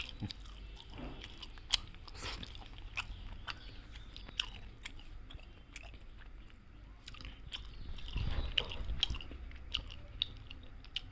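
Close, wet chewing and biting while eating parotta with oily cabbage curry, irregular soft crunches and mouth sounds continuing throughout with no talk.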